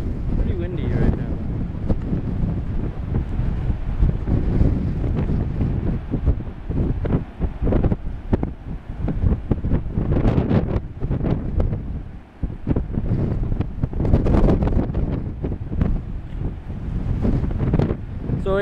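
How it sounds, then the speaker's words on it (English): Strong gusts of wind at a beach buffet the microphone in loud, uneven bursts, with faint surf in the background and occasional voices underneath. "Pretty windy right now."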